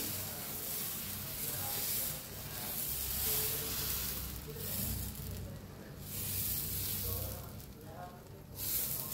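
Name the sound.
moong dal batter sizzling on a hot griddle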